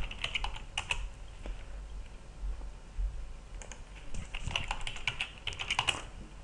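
A password is typed on a computer keyboard in quick, irregular bursts of close clicking keystrokes with short pauses between them, quiet and with no voices.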